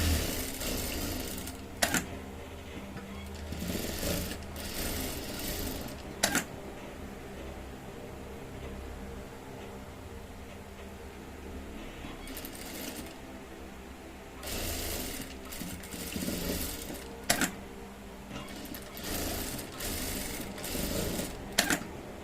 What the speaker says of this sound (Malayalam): അര ഇഞ്ച് സീം അലോൺസ് കൊടുത്തിട്ട് നമുക്ക് സൈഡ് ജോയിൻ ചെയ്തെടുക്കാം ഡബിൾ സ്റ്റിച്ച് ചെയ്യാം